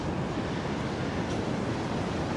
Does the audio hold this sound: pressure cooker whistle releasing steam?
no